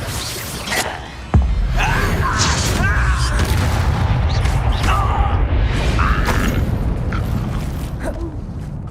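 A Bombarda spell blasts in the video game Hogwarts Legacy, a sudden heavy boom followed by rumbling, creaking debris and combat noise, with voices calling out over it.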